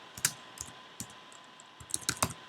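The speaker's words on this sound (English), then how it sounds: "I know I'm typing pretty slowly, but recording a video and typing on a 13-inch MacBook Pro from 2010 doesn't really work too well." Keys clack on a 2010 13-inch MacBook Pro keyboard, typed slowly in small irregular bursts of soft, close-up taps.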